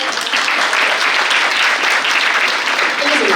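A theater audience breaks into loud, sustained applause to welcome a guest actor onstage, a dense wash of clapping that holds steady throughout.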